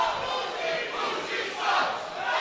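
Wrestling crowd at an Invictus social media championship match between Jay Boujii and Matt Awesome, cheering and shouting in a steady, loud roar that swells and dips, split between the two sides.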